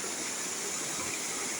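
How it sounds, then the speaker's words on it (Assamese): A mountain river flowing over rocks, a steady broad rushing hiss without breaks, heard close and evenly loud, with no voices. "ফাইনেলি আমি পাই গ'লোঁ এটা নদী"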